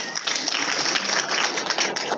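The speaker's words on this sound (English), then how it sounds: "So let's give a round of applause to Alan" Brief burst of audience applause for mushroom speaker Alan Rockefeller at a talk; steady, dense clapping throughout a couple of seconds.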